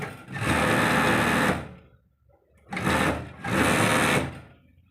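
Industrial sewing machine stitching the side seam of a T-shirt, running in three bursts: one long run, a short pause, then two quick runs close together, loud and near.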